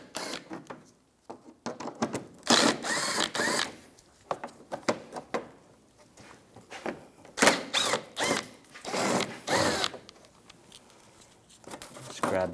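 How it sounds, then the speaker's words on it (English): A 10mm socket works screws loose from a 2004-2009 Toyota Prius grille: a string of short, close clicking and scraping bursts in an uneven rhythm, with quiet gaps between turns. "Using a 10mm socket, we're going to take these screws out."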